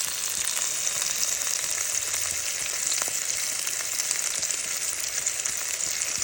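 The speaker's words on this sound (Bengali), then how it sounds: "বাকি 2 পিসকেও আমি এভাবে হলো ভেজে নেব।" Fish pieces fry in a pan as a steady, dense sizzle that stays even and close, with no talking.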